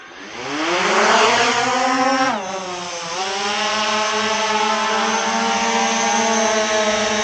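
Motors of an SG906 Max3 drone spinning up, a loud close whine with rising pitch that dips briefly and then holds steady as a sustained buzzing tone.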